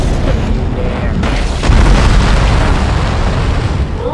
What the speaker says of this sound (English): Three floating anomalies destroyed.